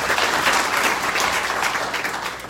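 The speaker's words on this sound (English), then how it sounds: "So please give them a round of applause." A community safety meeting audience claps for its leaders, a full, continuous round of applause that holds steady and then tapers slightly toward the end, with no speech over it.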